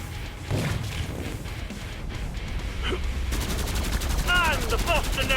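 Dense rapid gunfire in the video game Killing Floor 2, on a Santa's workshop map, bursts loudly and continuously alongside game voices and effects, with metallic clatter toward the end.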